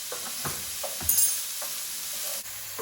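Peppers and tofu frying in a pan for a vegan scrambled tofu, a steady close sizzle with occasional stirring scrapes and taps, no voices.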